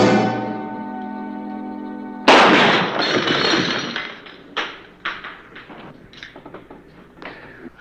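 In a deserted Old West town, a sniper's single loud, sharp gunshot cuts off a sustained dramatic musical tone and rings out with a decaying echo, followed by a few smaller knocks.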